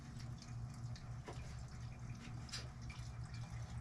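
A pot of chili bubbles and gurgles on the stove, a faint, steady simmer of soft liquid pops and burbles with no voices over it.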